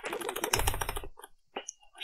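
Computer keyboard hammered hard during a frantic French-language gaming session, a dense burst of rapid clattering keystrokes for about a second, then a few scattered clicks and short vocal exclamations.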